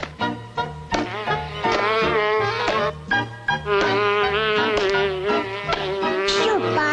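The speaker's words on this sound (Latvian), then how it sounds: "Projām, muša, lido projām." A housefly buzzes around in a Smurfs cartoon, its whine running loud and close under busy music and other cartoon sounds for the whole stretch.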